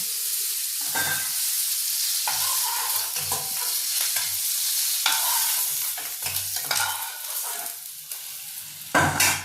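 Fish sizzling in hot oil in a home kitchen, a continuous bright hiss with intermittent scraping and stirring strokes from a utensil in the pan, no talking.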